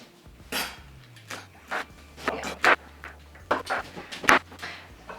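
Brussels sprouts being sliced thin on a small handheld kitchen slicer, giving quiet scraping, rubbing strokes in an irregular rhythm, close up, with a low hum underneath.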